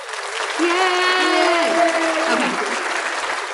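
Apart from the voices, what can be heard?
applause sound effect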